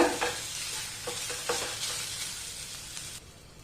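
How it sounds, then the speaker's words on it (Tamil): Moringa greens cooking in a pan, a steady sizzle with repeated scraping strokes as the spoon stirs the leaves, ending abruptly. "இதை வந்து கீரையில் சேர்த்து கொடுத்துட்டு நல்லா கிண்டி விட்டுடலாம்"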